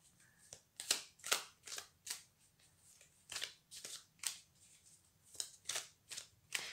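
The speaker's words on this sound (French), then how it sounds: "On va tirer une dernière carte et ça va représenter le conseil du tarot" Tarot cards shuffled and drawn, a string of soft close papery slaps and flicks in an irregular rhythm, quiet with no talking.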